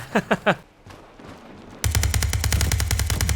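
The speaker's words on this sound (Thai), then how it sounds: "นี่เสียงปืนนะครับ" Rapid bursts of automatic gunfire from a Beryl M762 assault rifle in the game World War 3, a steady loud rattle of repeated shots after a few short thumps and a quieter stretch, close and sustained.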